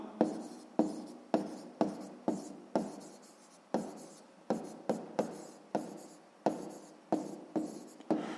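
A pen writes an answer by hand on paper during a sixth-grade math exercise, giving a run of short, close scratchy strokes, each starting sharply and fading, about a dozen in steady rhythm.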